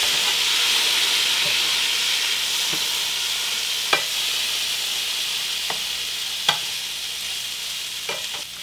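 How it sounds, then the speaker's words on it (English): Potatoes and corned beef fry in a pan with a steady, close sizzle and hiss, while a utensil stirs them and scrapes or taps the pan a few times. No one is talking. "I just need to get all of my potato in there, all of my corned beef in there, and stir it together."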